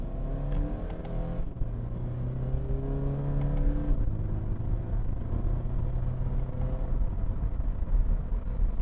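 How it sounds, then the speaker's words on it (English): A 2020 Toyota 86's boxer engine hums and rises with steady revs, shifting gears and pulling again, a throaty rumble heard from close inside the car. "I love the sound of the boxer engine."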